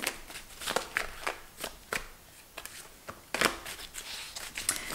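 Tarot cards are shuffled close up in a quiet room, a series of soft, crisp riffling bursts with short pauses between them, irregular in rhythm and fairly faint.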